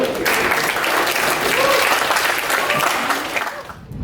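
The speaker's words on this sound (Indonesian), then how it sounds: "Tepuk tangan dulu" A student audience at a university entrepreneurship seminar bursts into loud, dense applause that carries on steadily and cuts off near the end, with some voices mixed in.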